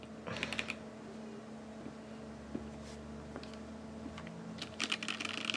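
Scattered bursts of mechanical keyboard key clicks on a KBDFans D60 Lite 60% board, quiet and somewhat distant, with pauses between flurries over a steady low background hum.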